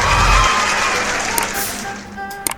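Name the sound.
applause sound effect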